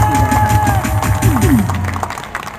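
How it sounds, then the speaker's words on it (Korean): Audience applause at a Liberty Unification Party event welcoming its first recruited member, brief loud clapping and crowd cheers under someone speaking into a microphone. "축하 박수를 힘차게 경례 감사의 축하의 박수를"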